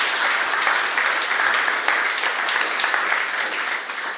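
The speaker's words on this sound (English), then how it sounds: "I think he deserves a round of applause" A room audience at a tech talk claps steadily for the presenter, a dense even wash of applause that holds at a constant level throughout with no voices over it.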